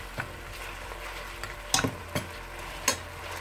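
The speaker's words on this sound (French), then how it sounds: "Il faut lui laisser le temps de mijoter dans son propre jus." Beef simmering in its own juices for a beef broth, a soft steady sizzle with a few sharp scraping clicks of stirring against the pot, fairly quiet and with no voices.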